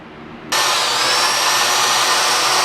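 A power buffing tool with microfiber pads spins up abruptly on the exhaust of a 2020 Yamaha MT-09 motorcycle, then holds a loud, steady whirring close by with no voices.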